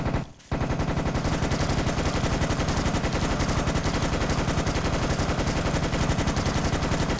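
A Thompson submachine gun fires in Garry's Mod, unloading a long, rapid, continuous stream of loud automatic shots after a brief pause at the start.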